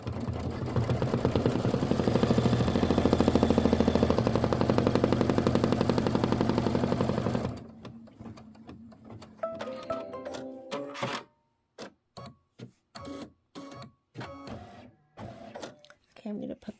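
A Kimberbell embroidery machine sews a placement stitch, starting with a loud, steady mechanical whirr and buzz, then breaking into rapid rattling bursts and short stop-start stitching near the end.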